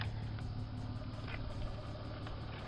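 A Scion car engine idles slightly rough after sitting unused for a while, making a steady, close low rumble with a faint periodic pulse and no talking.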